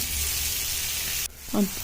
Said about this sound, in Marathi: तीही चांगली कोटिंग करून त्या पॅनमध्ये फ्राय करून घेते